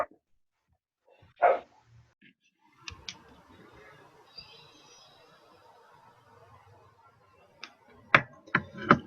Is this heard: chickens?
no